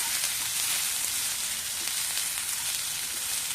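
Green tomatoes for chutney fry in a pan with a steady, close hiss of sizzling oil that runs without a break from start to finish.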